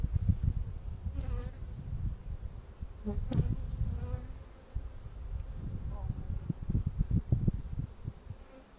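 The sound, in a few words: bees buzzing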